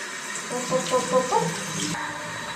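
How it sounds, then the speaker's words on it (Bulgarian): Tap water runs steadily into a bathroom sink while hands are washed under it, with a few soft splashes and faint clunks over the constant close-up stream. "Чакайте да си намия ръцете."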